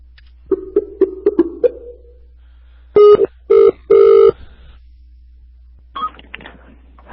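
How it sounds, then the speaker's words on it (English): A telephone number is keyed in as a quick run of short dialing tones, then after a pause the line rings in several loud, evenly spaced bursts, followed by faint muffled sounds. "let me dial the next number here."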